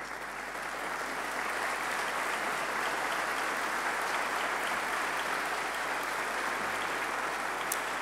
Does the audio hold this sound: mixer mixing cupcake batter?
no